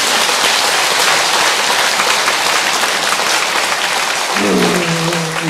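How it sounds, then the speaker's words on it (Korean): An audience at a Buddhist dharma assembly gives loud, sustained applause throughout, and a voice begins speaking near the end. "박수 한번 쳐주시면 좋겠네요"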